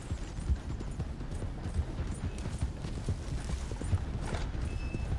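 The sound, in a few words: horse hooves from a video game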